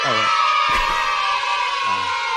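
Crowd cheering loudly, a dense roar of shouting and whooping voices with a sharp burst partway through, while a voice speaks over it.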